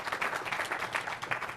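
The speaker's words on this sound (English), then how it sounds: "I want you guys to give them a big round of applause for being here" Audience applause at a Tech·Ed conference session, a brief burst of many hands clapping in a dense, steady patter at moderate distance.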